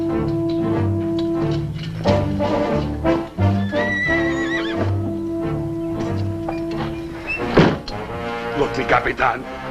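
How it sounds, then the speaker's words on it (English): A horse whinnies loudly nearby, with hooves clopping and someone talking in between. "a freshly saddled horse"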